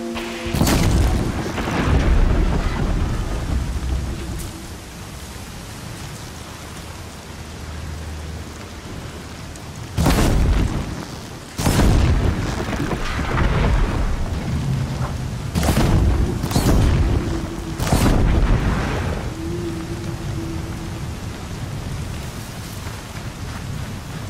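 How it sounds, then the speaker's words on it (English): A thunderstorm in the video game Horizon Zero Dawn: steady heavy rain with repeated loud booming thunder cracks and rolling rumbles, dense and continuous, with no talk. "Not gonna hear a thing over the storm."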